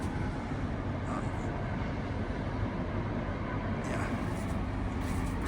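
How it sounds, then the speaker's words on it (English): Road traffic near a condo in Conshohocken, Pennsylvania, forms a constant, even roar of passing vehicles, a steady outdoor wash with no clear breaks. "So you do get a little traffic noise"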